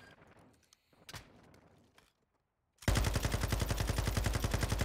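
Automatic gunfire in Modern Warfare 2 / Warzone: a loud, sustained rapid burst of shots erupts after a few softer thuds and a brief pause, continuing steadily to the end.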